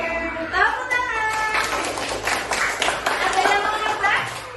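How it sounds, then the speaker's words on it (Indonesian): Children clapping together in a classroom during a lesson on pattern recognition, a steady patter of many small hands mixed with lively chatter and a teacher's voice over the top. "Oke, tepuk tangan."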